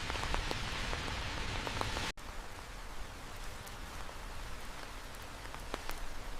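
Steady rain falling in Interlaken and the Swiss alpine villages, a dense continuous hiss with scattered nearby drips and drops, loud and even with a brief cut partway through.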